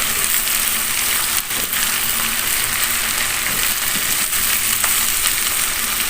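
Round eggplant stirred as it cooks in a frying pan gives a steady, loud sizzle throughout, broken by a few faint scraping stirs, with no one speaking.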